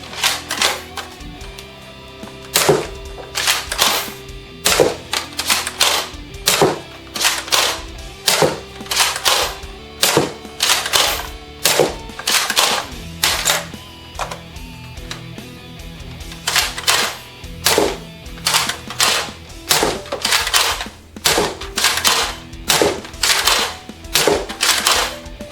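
Halo-themed Nerf blaster firing foam darts, a long run of sharp, close mechanical clacks and pops, some single and some in quick clusters, with a faint background hum.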